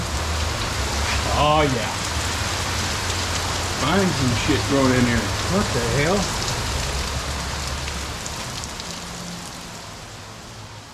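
Heavy rain pours steadily across the whole clip while someone talks over it briefly.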